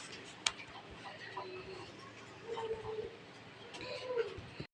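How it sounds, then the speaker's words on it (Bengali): Pigeons in a loft give soft, low cooing calls at intervals, with a sharp tick or tap early on and faint rustling in the quiet background. "এক জোড়া কবুতর আছে, এটা মুখী কবুতর"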